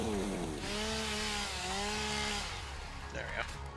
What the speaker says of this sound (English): Need another thing, we need a chainsaw.